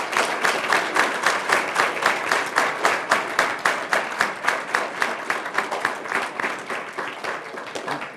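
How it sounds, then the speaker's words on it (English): Sustained applause from a large crowd, dense overlapping claps rolling steadily throughout with slight swells, no speech over it. "Let's give Mr. Largent a round of applause."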